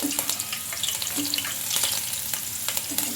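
Chillies and curry leaves fry in hot oil in a home kitchen pan, a continuous crackling sizzle with occasional stirring clinks and pops, close up and without talk.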